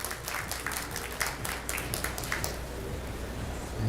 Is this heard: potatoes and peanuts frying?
no